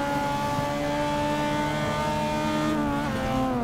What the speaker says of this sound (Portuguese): Que som de motor, hein?